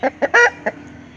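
A chicken clucks in four short, close bursts, the third one longer, during treatment for a rattling respiratory illness, with a quiet pause after the last call.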